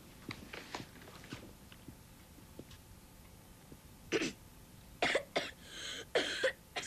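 Several sharp coughs burst out, with a couple of scattered ones early on and then a quick cluster near the end, close and fairly loud against an otherwise quiet room.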